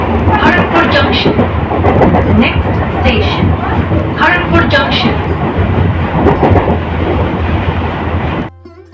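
A passenger train on the Puri route rumbles steadily with a deep, continuous low roar and rattling carriage noise, while people talk over it throughout; the sound cuts off abruptly near the end.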